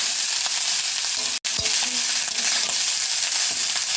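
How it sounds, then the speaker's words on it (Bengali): Day-old leftover rice being stirred and mixed as it fries in a pan, a steady close sizzle with scraping spatula strokes, one brief sharp knock near the middle, no talking. "এবারে এটা সুন্দর করে নাড়াচাড়া করে মিক্স করে নেব।"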